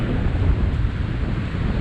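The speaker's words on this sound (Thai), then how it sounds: "โอ้ลมมุนข้างแรงครับไม่รู้ว่าจะยังไงนะฮะ" Strong wind roars and buffets the microphone continuously on a boat out on the Andaman Sea during a fishing trip, a loud, steady rumble with no voices.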